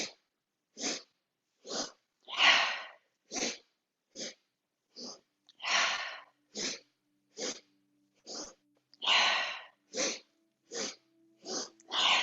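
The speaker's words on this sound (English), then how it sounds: "It feels like you're really sniffing hard, getting the air clear up into your brain" Forceful sniffs through the nose in a yoga breathing exercise, about sixteen sharp bursts in an uneven rhythm of short and longer pulls, close and clear, with quiet pauses between them.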